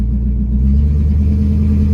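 A 1970 Pontiac LeMans rumbles low and steady from close by as it shifts gears while driving, a deep continuous engine drone with no talking.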